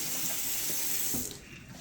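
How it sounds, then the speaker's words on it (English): Tap water runs steadily into a kitchen sink fitted with a garbage disposal, a close, bright rushing hiss that drops off and softens near the end. "now I start the water and I turn the switch"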